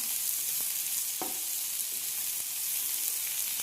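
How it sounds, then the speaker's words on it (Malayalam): Three sliced medium onions sauté in a pan for Kerala egg roast, a steady close sizzle with a few soft clicks of a spoon stirring. "സവാള നന്നായിട്ട് വഴറ്റി കൊടുക്കാം."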